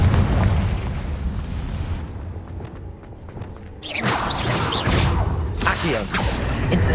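A Confringo fire spell explodes in Hogwarts Legacy: a steady, full rumble of combat gives way to a quieter moment, then a sudden booming blast followed by crackling, whooshing aftermath, loud and close.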